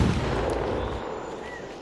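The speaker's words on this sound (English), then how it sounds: "Let's make a fireworks show." Virtual fireworks in the Firework Playground video game burst in a dense, loud, continuous crackling roar that fills the whole moment without any voices.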